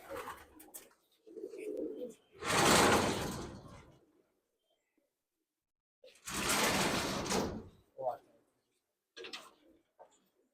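Female Pulsar pigeons coo in a loft in bursts between quiet gaps, with a couple of soft flutters and clicks; a voice speaks briefly at the start.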